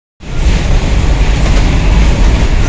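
Tram number 22 in Chelyabinsk rides along with its doors stuck open, a loud, close, continuous roar of wheels and car rumble starting abruptly and holding steady.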